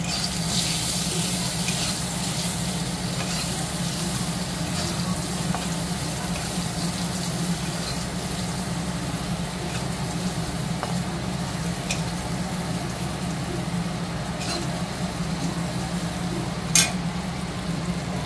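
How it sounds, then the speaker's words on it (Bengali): Eggs fry in a pan with a steady, close sizzle that runs throughout, broken by faint scraping stirs and one brief sharp click near the end. "এখানে ডিমটা ভাজতে রেখেছি"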